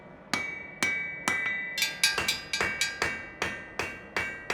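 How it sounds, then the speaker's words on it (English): A hammer strikes hot iron on an anvil during forge welding, about a dozen sharp, ringing metallic blows in a steady rhythm, with quicker strikes in the middle and bright ringing tones after each hit. "When I strike a blow with a hammer, the slag splatters away explosively and is gone."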